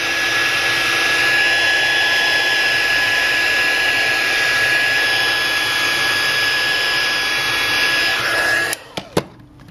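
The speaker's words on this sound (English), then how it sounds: "with a little heat from the heat gun, will remove it just fine" Heat gun warming the home button of a Samsung Galaxy S5 during a screen repair, a loud, steady blowing roar with a high whine that cuts off near the end, followed by a few sharp clicks.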